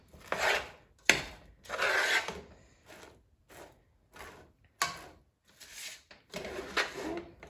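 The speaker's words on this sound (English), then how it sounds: "make sure you really scrape and get underneath so you get all the plain Rice Krispie treats that move down to the bottom" A spoon scrapes sticky Rice Krispie treats off the bottom of a pan, a series of close, gritty rasping strokes in an irregular rhythm with brief pauses between them.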